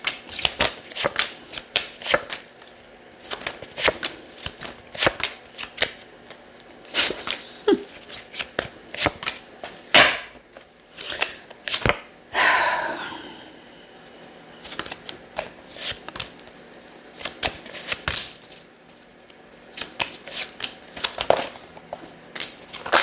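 Tarot cards being shuffled by hand: repeated crisp riffles and slaps in irregular bursts, close and fairly loud, with a longer riffle in the middle and faint speech at times.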